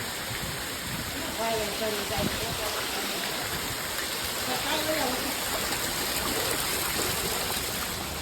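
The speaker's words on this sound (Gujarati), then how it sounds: "ચૂલો ચૂલામાં પાણી વયું ગયું ડબરા તરે છે" Floodwater pours steadily into a house kitchen during a heavy downpour, a continuous close rush of water and rain with voices talking over it throughout.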